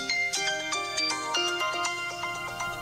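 A mobile phone ringtone plays a loud, continuous electronic melody of quick bright notes close by, with no talk over it.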